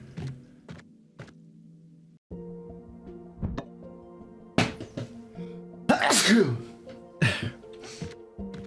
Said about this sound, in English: I have the worst sneezes.